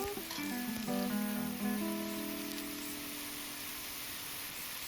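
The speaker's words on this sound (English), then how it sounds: "Add in the stem lettuce. Stir fry until soft and translucent." Sliced stem lettuce sizzles steadily in a hot wok as it is stir fried, a continuous close hiss with a few metallic ringing scrapes near the start.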